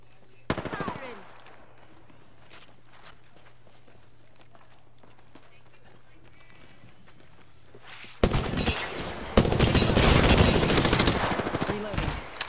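Automatic gunfire in a squad shooter video game rattles out loud and close, first a short burst, then after a quiet stretch of footsteps a long sustained barrage of rapid shots.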